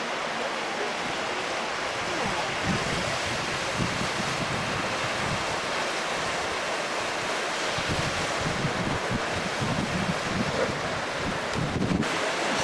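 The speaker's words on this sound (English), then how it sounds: "The wind's just a blowing" Strong wind buffeting outdoors at a wedding, a continuous rushing roar with gusty low-end thumps across the whole stretch, close and loud.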